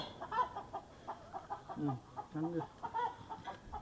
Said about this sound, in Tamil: இந்த கோழியோட வேலையே இதான் ஒளிஞ்சு ஒளிஞ்சு தான் முட்டை போடுவேன்